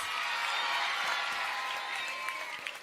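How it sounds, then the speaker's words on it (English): An audience applauds together in a steady, even wash of clapping with a hint of crowd noise, held at a moderate distance and fairly soft. "Let's all give applause."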